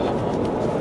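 A train arriving in Busan gives a steady, loud low rumble that continues unbroken throughout the short stretch, with no voices.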